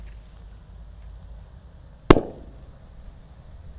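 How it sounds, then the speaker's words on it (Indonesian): A single sharp bang from a homemade paper-wrapped firecracker going off outdoors, loud and abrupt with a short decaying tail against faint low background noise. "kita nyalakan Super Whistling Thunder ini yang belum buntelan ya"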